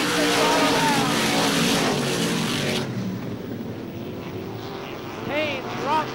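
Supermodified race cars roar around the oval at Star Speedway, a dense engine drone loud at first, then easing as the pack passes, with a car's whine rising again near the end, under a commentator's voice.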